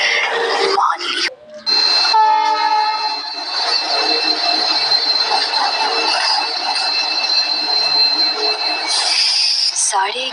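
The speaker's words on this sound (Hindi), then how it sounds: "11:30 बज रहे थे जब ट्रेन एक सुनसान स्टेशन पर रुकी।" A train pulling into a deserted station and stopping, wheels squealing in steady high-pitched tones over rumbling carriages, loud and close, with a brief break early on.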